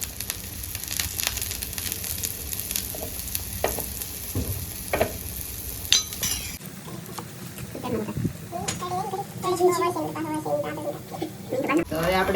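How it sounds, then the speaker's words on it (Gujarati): Wheat flour pudla fries in a pan as oil is poured around its edge, giving a steady crackling sizzle with small pops, while someone speaks over it and faint bird calls come from the background. "તો હવે પછી આપણે પાછું તેલ નાખવાનું છે, આમ ફરતું એટલે ઉસળી જાય સારું."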